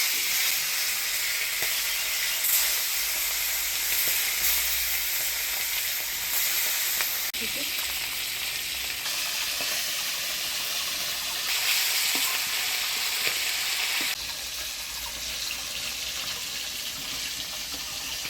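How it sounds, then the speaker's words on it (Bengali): Small hilsa fish fry in hot oil in a village kitchen, a continuous loud hiss and crackle holding steady throughout with slight shifts in intensity. "তেল গরম হয়ে গেছে, এবার মাছগুলো ভাজে নিই।"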